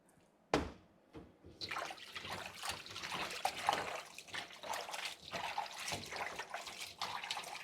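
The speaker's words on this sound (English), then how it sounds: "I pour it in my water, into my tripe water." Liquid bleach poured from a cup into a pot of water for cleaning tripe, a close trickling and splashing stream that starts with a sharp splash and runs on steadily for several seconds.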